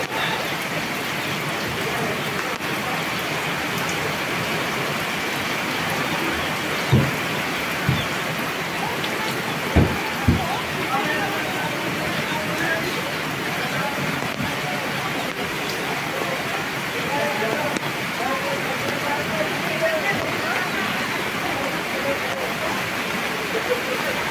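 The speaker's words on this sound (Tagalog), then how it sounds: "sana tumigil na itong ulan na to para hindi na tumasang tubig ilog" Heavy typhoon rain from Typhoon Goring in Occidental Mindoro, a steady dense hiss of downpour with a few faint knocks, continuous and even.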